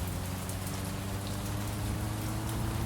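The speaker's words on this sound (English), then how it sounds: "you hear the sound of that rain?" Steady rain in the video game Mon Bazou falls with a dense, even hiss, drops pattering continuously on surfaces, no voices.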